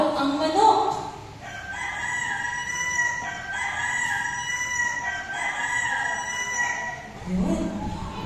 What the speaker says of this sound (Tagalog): na sinabi na hindi niya kilala si Jesus nang biglang tumilaok ang manok